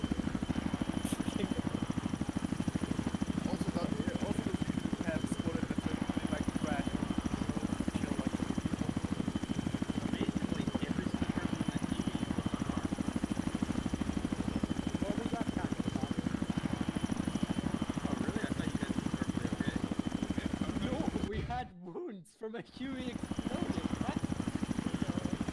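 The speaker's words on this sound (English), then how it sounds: "heads up Alpha, you're in the helicopter." A helicopter's engine and rotor drone steadily in a military video game, a constant low hum running beneath intermittent voices, briefly cut by a sharp dropout near the end.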